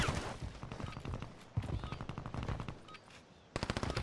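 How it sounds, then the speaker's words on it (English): Rapid bursts of automatic machine gun fire in the Warzone video game, sustained rattling volleys that pause briefly and then resume loudly near the end. "Who the fuck is shooting at me, huh?"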